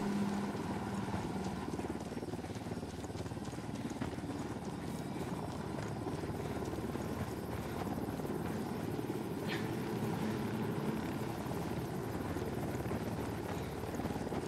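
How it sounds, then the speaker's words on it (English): A helicopter parked by a creek in the Special Forces game runs continuously, a steady, dense rotor and engine roar with no breaks, loud and close, with no talking heard. "I just don't want them seeing the helicopter at all."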